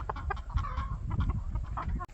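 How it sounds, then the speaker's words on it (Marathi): A village rooster with red junglefowl traits gives close, short clucking bursts in a quiet rural setting. "हा टिपिकल रेड जंगल फॉलचे कॅरेक्टरिस्टिक्सवाला कोंबडा आहे"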